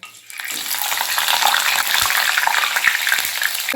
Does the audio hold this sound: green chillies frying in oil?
yes